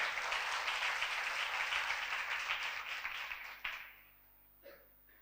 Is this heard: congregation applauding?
yes